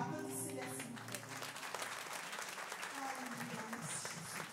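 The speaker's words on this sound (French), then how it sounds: "Applaudissez-les, s'il vous plaît." A church congregation at a French-language worship service applauds the worship team, with fairly faint, steady clapping that follows a brief musical tone at the start and continues evenly throughout.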